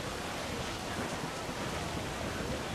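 A storm at sea in Assassin's Creed IV: Black Flag hisses as a constant wall of rain-like and surf noise, steady and even throughout, with no talk.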